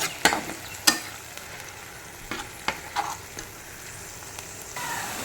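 A paste of garlic, ginger and green chili fries in a pan with a soft continuous sizzle, broken by several sharp clinks and scrapes of stirring spread through the clip.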